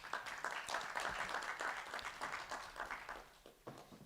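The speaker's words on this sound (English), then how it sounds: "Round of applause for them, please." Conference audience clapping together in a full, busy round of applause that stays strong, then thins and fades toward the end.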